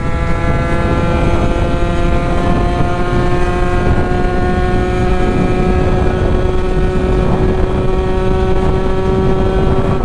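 A big bore AM6 Sherco Supermoto 50 engine runs hard in sixth gear, a loud, sustained buzzing drone with steady high revs and no breaks, heard up close.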